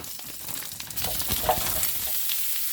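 Food sizzling in a heated skillet with a teaspoon of oil, a steady bright crackling hiss that swells slightly after being stirred, close and continuous with no talk.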